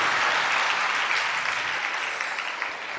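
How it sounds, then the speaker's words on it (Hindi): Steady, dense audience clapping during a Hindi religious sermon, a broad wash of applause that holds evenly and tapers slightly toward the end. "देखो, किसी पुरुष ने ताली नहीं बजाई"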